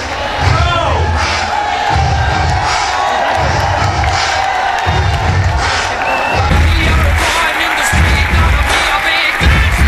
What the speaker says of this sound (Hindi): जोरदार तालियों से स्वागत किया जाए इस बच्चे